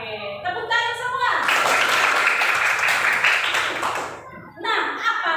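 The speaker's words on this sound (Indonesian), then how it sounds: "Oke, tepuk tangan semua." A school class claps their hands together, a dense burst of applause lasting a few seconds, close and loud, with an adult voice speaking just before and after it.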